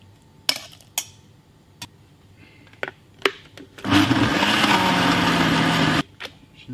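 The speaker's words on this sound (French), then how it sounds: "On peut le faire aussi au mixeur plongeur" An immersion blender blending fish soup roars for about two seconds in a single loud burst, preceded by scattered clicks and knocks of kitchen handling.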